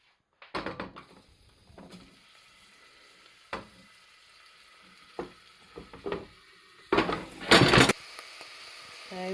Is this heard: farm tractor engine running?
no